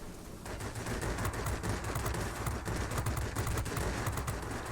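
Yak-3 fighter cannons in World of Warplanes fire in dense, continuous bursts over a steady engine roar, a loud rattling fusillade with no speech.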